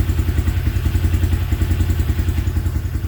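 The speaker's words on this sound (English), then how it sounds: "I'm gonna let it sit here and idle for a minute." A 2017 Can-Am Defender HD5 engine idles after repair, a loud, close, steady low-pitched chugging with a fast even pulsing rhythm and a light mechanical clatter.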